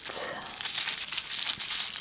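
A plastic bag, twisted shut and pulled from a junk-heap sack, crinkles and rustles close up in a dense, continuous crackle for about two seconds, with no speech over it.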